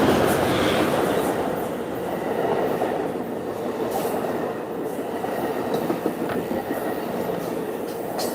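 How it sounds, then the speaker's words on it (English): A train rolls past near a beach, filling the scene with a loud, sustained rumble and rattle of railcars plus faint clicks and squeals that hold steady for the whole stretch. "Here's the train."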